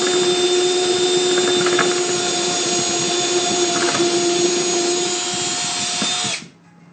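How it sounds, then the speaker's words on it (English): A power drill whines continuously at high speed for several seconds, close and loud, then stops abruptly. "we're going to go ahead and drill this thing"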